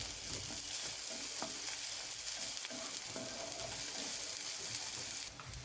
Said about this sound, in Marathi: अद्रक लसूण आणि खोबरं घातलेली पेस्ट टाकत आहे. याला पण थोडंसं परतून घेऊया.